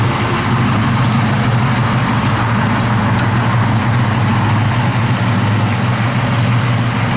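A 1969 Chevrolet Camaro RS/SS engine runs close and loud with a steady, low rumbling idle that holds constant throughout, with no talk.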